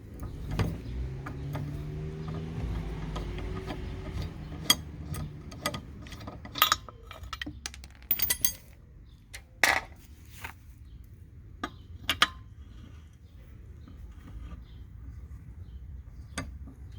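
Tools clink and ratchet while a front wheel comes off a damaged 2005 Hyundai Sonata. Scattered metallic clicks and clanks come at irregular intervals, with a low rumble in the first few seconds.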